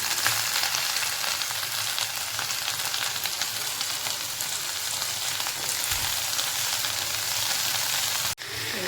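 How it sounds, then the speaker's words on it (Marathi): Fenugreek greens sizzle steadily in hot oil seasoned with asafoetida and green chilli as they are stirred in a pan at home, a dense, even frying hiss running throughout without talk. "भाजी फिरवून घ्यायची व्यवस्थित"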